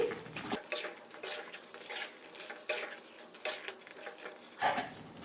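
Fried chicken being stirred and mixed in a pan, with repeated scraping and clinking of a spoon against metal in an uneven rhythm over a soft background sizzle.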